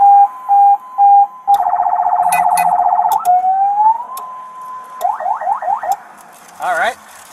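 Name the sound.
alternating police-style siren on fake cop car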